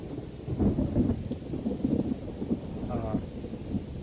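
Steady rain and rolling thunder from a stormy weather effect in the video game Morrowind, a dense continuous wash with low rumbles throughout the scene.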